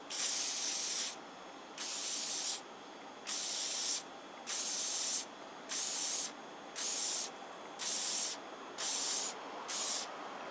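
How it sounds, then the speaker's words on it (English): A hairspray can hisses in nine short bursts, each about a second long, separated by brief pauses, close and fairly loud. "now I'm just going to get some hairspray and we're going to give it a spray."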